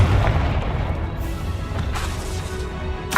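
A Confringo fire spell bursts in Hogwarts Legacy with a heavy, booming explosion. A dense, roaring rumble fills the whole stretch, followed by a sharp crack near the end.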